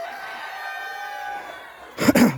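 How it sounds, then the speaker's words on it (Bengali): Chickens on a small poultry farm, heard as faint bird tones in the background that give way in the last half-second to a loud burst of close clucking and squawking, which may come from a rooster. "এখন আমরা খাদ্য আর পানি দিয়ে দেব মুরগিকে।"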